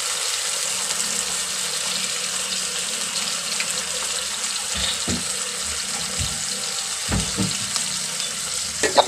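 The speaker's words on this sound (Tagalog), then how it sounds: "Prito na natin yung isdang tulingan ba yan o anong isda yan mga kaulam." Tulingan fish frying in a pan gives a steady, close sizzle with bubbling crackle, broken by a few soft clatters of a utensil or pan partway through.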